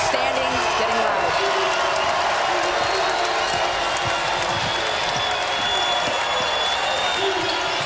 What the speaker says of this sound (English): The crowd trying to get in their head, standing, getting loud.